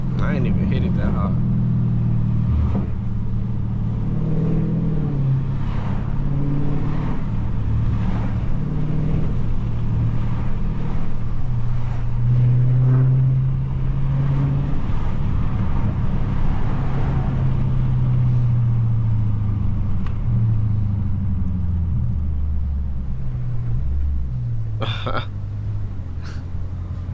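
A Dodge Scat Pack engine rumbles and revs on city streets in Chicago, a loud, continuous low drone rising and falling over nearly half a minute, with people talking over it.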